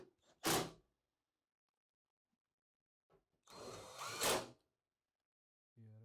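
Power drill driving T25 screws into the back panel of a Bosch heat pump dryer: two short whirring bursts, the second longer and louder, separated by near silence, followed by a brief tonal tail at the end.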